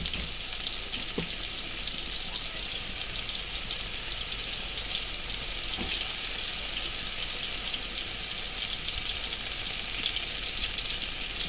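Greens frying in a pan for a mashed leaf and flower dish, with a steady broadband sizzle and a few faint stirring scrapes, continuous and fairly even throughout, no voices.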